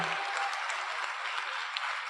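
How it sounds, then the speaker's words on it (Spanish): Audience applause for the speakers at a Chilean environmental forum, a steady even wash of many hands clapping, somewhat distant and soft, continuous throughout. "Aplauso a los expositores, Javier, Flora, Pablo, de pie, Nico, María,"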